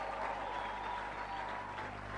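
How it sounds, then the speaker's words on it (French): Church congregation applauding steadily, a dense continuous wash of clapping from a crowd, loud and even for the whole short stretch with no talk over it. "Est-ce qu'on peut l'acclamer encore une fois?"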